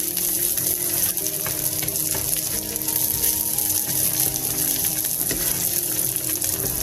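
Onions browned dark brown sizzle in a hot pan with walnuts and raisins added, a steady loud frying hiss with faint crackles and scraping throughout, no talk.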